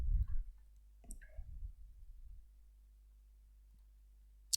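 A few faint, sparse clicks of keys being pressed on a computer keyboard while entering a command in the Windows command prompt, spread over an otherwise quiet stretch, with one sharper click at the end.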